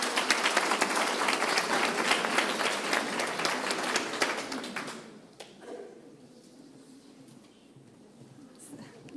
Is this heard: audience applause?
yes